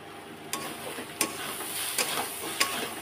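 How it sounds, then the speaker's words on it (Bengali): Lote fish cooking with bitter gourd in a curry sizzles steadily in a pan. Four sharp stirring clinks ring out at regular intervals over the frying hiss, close and fairly loud. "আর একটু ভাজা করব, লাগিয়ে নেব।"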